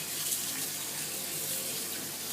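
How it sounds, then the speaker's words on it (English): Cold tap water runs steadily into a sink while salted onions are rinsed, a continuous close hiss and splash with no pauses. "Then you want to rinse it with cold water."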